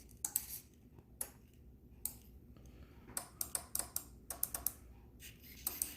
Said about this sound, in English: Now the relays should start clicking by the random button pushes that I was doing.